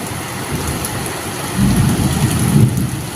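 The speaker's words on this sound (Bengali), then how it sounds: "যত বেলা হচ্ছে তত বৃষ্টিটা আরো বেশি জোর হচ্ছে।" Heavy rain pours steadily while thunder rumbles low and close, swelling louder about halfway through and staying strong to the end, with no voices over the storm.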